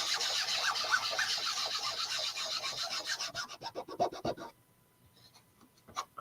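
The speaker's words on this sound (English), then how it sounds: "So I'm just going to burnish this." Burnishing a sign transfer onto a cork bulletin board, a steady rapid rubbing rasp that breaks into separate scratchy strokes, then a quiet pause and a last couple of rubs.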